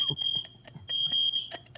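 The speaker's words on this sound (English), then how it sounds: "I think the alarm's getting louder." A smoke alarm sounds with sharp, repeated high-pitched beeps in short and longer bursts, heard over faint background music and quiet voices.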